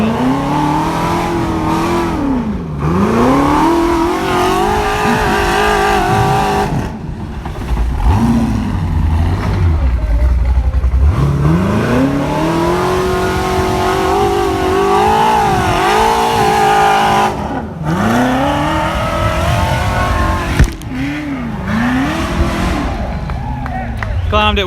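An off-road race car engine climbs a hill on a flat tire at an off-road park, running loud and continuous with rising and falling revs and engine pitch throughout.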